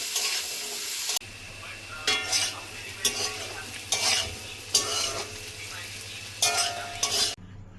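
Vegetables frying in a pan for a Bengali mung dal with tender stalks and potato fry, a steady sizzle broken by repeated scraping stirs at a slow, irregular rhythm, with a low hum underneath.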